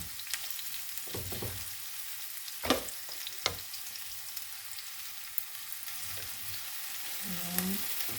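Onions fry in a pan with a steady soft sizzle while a utensil stirs them, with occasional sharp scrapes and clacks against the pan. Quiet speech is heard briefly near the end.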